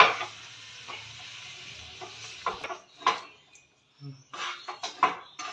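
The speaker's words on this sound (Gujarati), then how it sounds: "હવે માવાને અને મસાલાને આપણે સારી રીતે મિક્સ કરી લેશું." A spatula mixes mashed potato into spice masala in a pan for a masala sandwich filling, making intermittent scrapes and knocks over a faint low sizzle, with a few sharper taps near the end.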